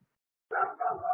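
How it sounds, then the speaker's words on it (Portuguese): Dog barks once in a short, loud burst close by, breaking out of silence and trailing into a second rougher yelp. "Cachorrada, né?"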